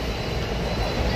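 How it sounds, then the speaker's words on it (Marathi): A Konkan Railway train pulls into Diva station, heard as a steady, low, continuous rumble of rolling carriages with no breaks or distinct clanks. "दिवा स्टेशन आलंय आणि आमचा आता हा कोकण रेल्वेचा प्रवास संपतोय"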